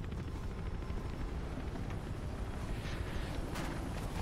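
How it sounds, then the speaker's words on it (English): A helicopter in the video game Mirror's Edge, a low, continuous rumbling drone that stays faint and steady throughout. "that helicopter, at least on hard difficulty, just becomes like a master sniper"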